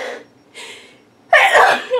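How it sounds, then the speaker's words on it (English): A single loud, close sneeze bursts out after a couple of soft breaths, given by someone in the middle of a scrapbooking kit demonstration. "I'm having a huge sneezing attack here."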